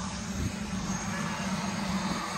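Helicopter at a helipad in Orlando, a steady engine and rotor roar that holds level throughout, moderately loud and continuous with no talking.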